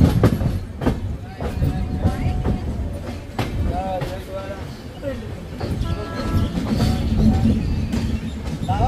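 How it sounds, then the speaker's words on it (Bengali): The Howrah–Chennai Coromandel Express rolls along the rails with a steady rumble and rhythmic wheel clatter and occasional metallic squeals, heard from on board while people talk over it. "যখন ট্রেন কার্ভ নেয় তখন বোঝা যায় যে ট্রেন কত বড়।"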